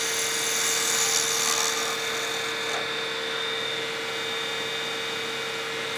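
A wood lathe spins a pen blank while a skew chisel refines the shape, giving a steady high whine with a constant tonal hum and a brief cutting hiss early on.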